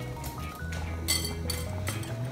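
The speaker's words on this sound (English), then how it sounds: "And just whisk that all together." Eggs, cheese and pepper for carbonara are whisked in a bowl, giving rapid clinking taps of the whisk against the dish, close and steady throughout, with musical tones playing underneath.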